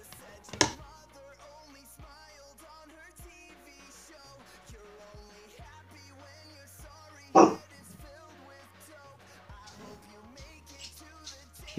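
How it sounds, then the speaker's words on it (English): Dogs at home react to neighbor kids outside, giving two short, loud barks several seconds apart over a quiet indoor background, with faint whines and soft rustling between them. "My dogs hear the neighbor kids running around getting Easter eggs and whatnot."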